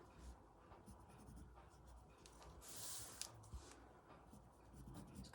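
A pencil scratches and rubs as it goes over drawn lines on a collage for hand embroidery, a soft continuous scraping that sits close and quiet, with a brief brighter hiss partway through.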